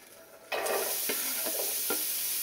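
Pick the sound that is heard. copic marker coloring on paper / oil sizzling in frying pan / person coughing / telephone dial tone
oil sizzling in frying pan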